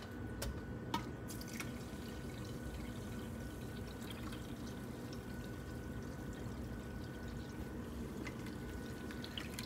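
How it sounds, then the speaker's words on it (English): Water poured into a small pico reef aquarium holding sand, a steady low splashing wash throughout with a few brief drips, no talking. "Let's add some water."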